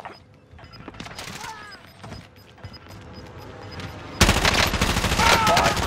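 Gunfire rattling in a Call of Duty: Modern Warfare battle royale match, scattered shots at first, then a loud, dense burst of automatic fire in the final seconds. Radio voices come and go beneath it.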